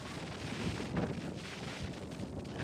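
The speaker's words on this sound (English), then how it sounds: "It's fairly windy." Steady, fairly faint wind gusting and buffeting the microphone outdoors on a rugged coastline of the Bonavista Peninsula, with no other clear sounds.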